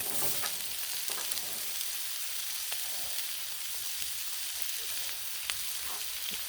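Vegetables and onions sizzle loudly on a Blackstone griddle, a dense, steady hiss with occasional sharp crackles and pops, close and continuous with no talking.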